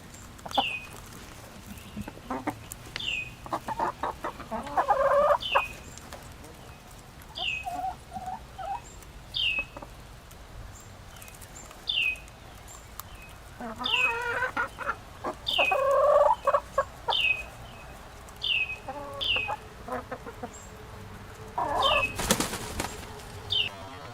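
Backyard chickens eat a seed-and-grain feed mix with sunflower seeds. Soft clucks and short calls come intermittently over about twenty seconds, along with faint scratching and pecking noises nearby.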